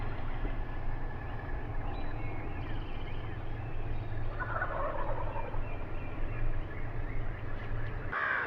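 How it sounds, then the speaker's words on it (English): Wild turkey gobblers at dawn during a spring hunt, gobbling repeatedly from across a field, distant but clear over steady low background noise, with a louder burst near the end. "I got these birds gobbling their heads off straight across the field."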